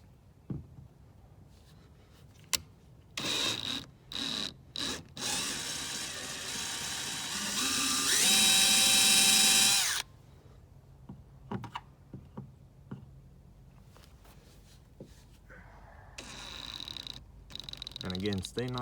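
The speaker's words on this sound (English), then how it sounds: "So let's get the drilling." A power drill whirs in bursts of a few seconds while installing landing gear on a Hobie Outback kayak, then runs steadily with a rising whine before stopping; clicks and handling noises follow.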